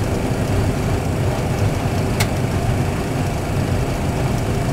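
Aircraft engines spool up to takeoff thrust as a loud, dense, sustained roar with deep low rumble, a brief sharp click in the middle, and no speech.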